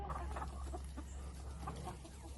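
Backyard hens (chooks) cluck softly and intermittently nearby over a steady low outdoor hum, with no talk.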